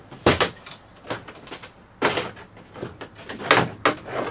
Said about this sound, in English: all you got to do is lift up on the dash